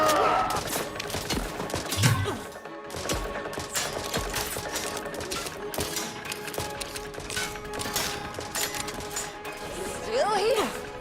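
Gunfire in The Outer Worlds 2, rapid bursts of shots and sharp mechanical crackles at moderate volume throughout, mixed with clanking and a humming background, while voices talk over it.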